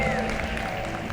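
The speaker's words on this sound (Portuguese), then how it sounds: "Palmas pra Dennis" Audience applause at a live lecture event, a dense, steady patter of clapping throughout with a murmur of voices mixed in.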